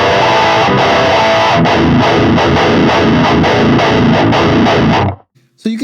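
Electric guitar driven through a Boss Metal Zone with a Fortin Grind boosting it, loud, tight distorted palm-muted chugs with sharp pick attack in the low register, cutting off suddenly before a brief trailing sound.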